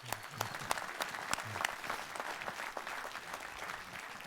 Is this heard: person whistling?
no